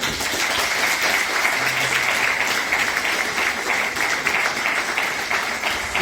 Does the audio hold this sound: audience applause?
yes